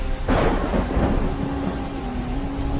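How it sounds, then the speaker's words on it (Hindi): A thunderstorm with heavy rain in a jungle: a loud rumbling thunderclap breaks early over a steady hiss of pouring rain, then fades into continuing downpour. "एक बार जंगल में तेज बारिश और तूफान आया।"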